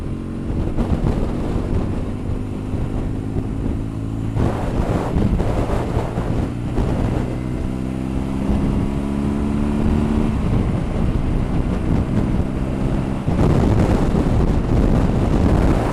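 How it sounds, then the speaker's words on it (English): Wind buffets the microphone during a motorcycle ride, a loud rushing roar with gusty bursts over the steady low drone of the bike's engine, no talk heard. "I can definitely say we have some wind as the bike's leaning to one side"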